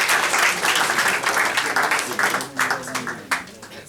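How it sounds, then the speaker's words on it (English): An audience at a heritage quiz final claps warmly in a lively, uneven burst that gradually thins out, with a voice speaking faintly over it. "But we can give you a big round of applause."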